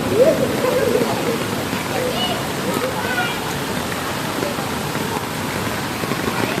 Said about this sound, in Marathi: बघा पाव पाणी बघा किती जाते पुलावरून